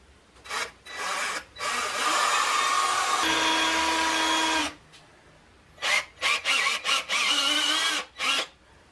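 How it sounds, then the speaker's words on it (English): A power drill whirs in several bursts while drilling holes into a wall, one long sustained run followed by a series of short quick pulses, close and loud. "Let's drill some holes. I am drilling a hole."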